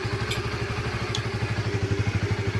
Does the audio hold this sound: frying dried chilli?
no